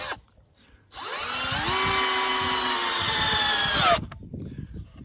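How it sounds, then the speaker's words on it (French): A power drill bores a 5 mm pilot hole in wood while a timber shelter is built: one loud, steady whining run of about three seconds, its pitch rising as the motor spins up, then cutting off abruptly, with no talk. "je vais perforer un trou avec une mèche de 5 et qu'on perce"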